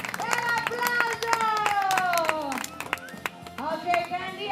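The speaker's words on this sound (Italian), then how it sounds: "Bravissima Terry, e l'applauso!" An audience applauds at a sea lion and elephant show at a zoo in Abruzzo, with a burst of clapping and crowd noise under a lively announcer's voice that carries through the whole clip.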